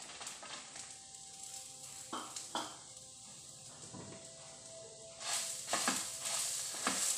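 Chili, fenugreek, cumin and a little onion fry in a pan with a soft, quiet sizzle, punctuated by occasional scraping and clinks of a utensil stirring, growing louder toward the end.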